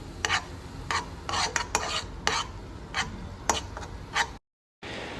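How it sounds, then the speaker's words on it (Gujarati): Oil-free potato curry is mixed with garam masala and coriander powder in a pan, making repeated rhythmic scraping strokes of a spoon over a light sizzle, close up, with a brief gap of silence near the end and no speech. "આ બધી જ વસ્તુને સરસ આપણે મિક્સ કરી લઈશું"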